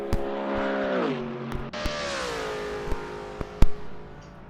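A McLaren race car pulls out of the pits in Assetto Corsa, its engine whining and rising in pitch as it accelerates, loud and close, with a few sharp clicks and a brief squeal along the way.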